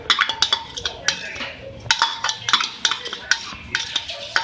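Chicken being mixed with yogurt and red chili in a bowl for a Punjabi chicken marinade, a close series of rhythmic wet stirring scrapes and clinks of a spoon against the bowl, with no speech.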